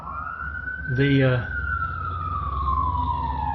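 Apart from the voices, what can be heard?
emergency vehicle siren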